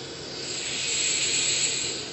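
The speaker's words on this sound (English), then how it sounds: "that's the sound of precision ball bearings" Free-spinning, non-returning yo-yo with precision ball bearings whirring steadily in a high, airy hiss that swells slightly and holds for about two seconds, close and alone with no talk.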